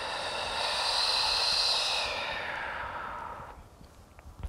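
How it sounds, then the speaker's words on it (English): A long, steady exhalation during yoga breathing, a close, breathy hiss that holds strong for about two seconds and then slowly fades away, with no talking over it. "Big inhale. And long exhale."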